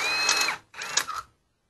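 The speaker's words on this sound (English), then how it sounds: "I'm just letting the drill bit do the work." A drill bit bores speed holes in a metal panel under light pressure, giving two close, steady whirring passes with a short gap between them before it stops.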